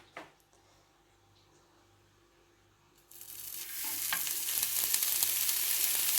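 Norwegian sausages frying in a pan over low heat give a soft, steady sizzle that starts up about halfway through, after a quiet stretch with a faint knock, and then builds to a close, continuous crackle.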